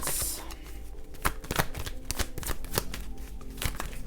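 Tarot cards being shuffled for an evening reading, a close run of crisp riffling flicks and soft slaps in an irregular rhythm, heard alone with no voice.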